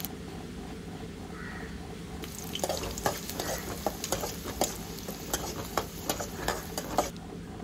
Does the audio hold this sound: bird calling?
no